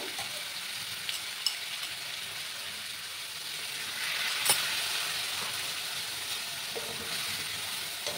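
Spices for a rohu fish curry with ridge gourd and potato sizzle and fry in a pan, a steady close hiss that swells briefly midway, with occasional small clinks and no voices.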